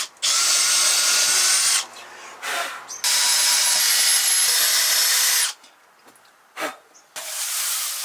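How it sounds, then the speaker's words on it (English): A cordless power drill bores pilot holes into wood for a camper van cupboard build, three loud sustained whirring bursts separated by short pauses, with brief spin-ups and handling noises between. "drill some pilot holes so that these have something to go into and it doesn't crack the wood"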